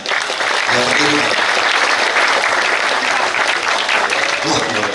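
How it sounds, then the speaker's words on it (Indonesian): A large crowd at an outdoor ceremony handing over electric pedicabs in Kediri applauds loudly and steadily for several seconds, with voices cutting through briefly. "Tepuk tangan."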